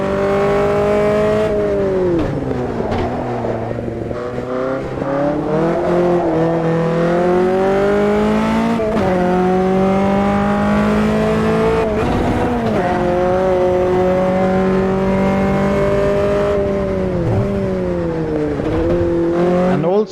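A Formula race car engine in the racing game Automobilista 2 revs loud and continuously, its pitch climbing and dropping sharply through repeated gear shifts, close up with no talking.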